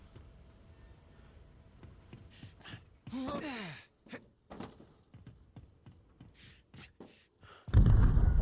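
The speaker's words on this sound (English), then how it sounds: "My guy's breathing heavy." Heavy, labored breathing from a character in Still Wakes the Deep, a run of short gasps and sighs over a low rumble, ending in a loud burst of noise.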